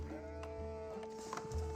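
Sheep bleating in the real-time strategy game Age of Empires 4: a faint, quavering bleat with a few short clicks, set against a steady in-game music drone.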